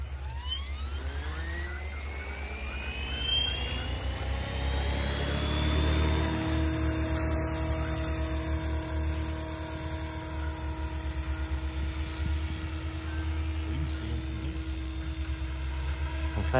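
A DIY model helicopter's electric motor spooling up with freshly painted rotor blades, rising into a steady, whining drone with a low rotor beat that holds outdoors, fairly faint.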